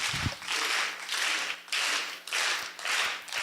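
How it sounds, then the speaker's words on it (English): An audience at a talk claps in slow unison, about five broad, loud clap bursts spaced roughly half a second to a second apart, each ringing briefly in the room. "Then you got to slow clap me into this"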